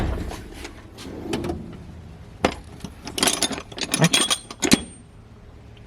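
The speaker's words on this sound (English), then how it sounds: "Let's go to this drawer right here. Try to find you a socket." A workshop drawer is pulled open and tools are rummaged through in search of a socket, giving a series of loud, close metallic clinks, rattles and jangles in irregular bursts, with no talking.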